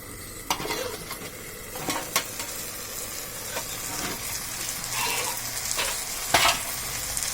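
Food in a cooking pot being stirred, with steady sizzling under a series of sharp scrapes and knocks of a utensil against the pot, close and alone with no voices.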